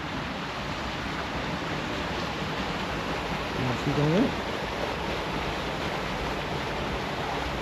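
Man-made waterfalls along the Holywell Stream, once used to drive mill water wheels, give a steady broadband rush of falling water throughout, with someone speaking briefly over it midway.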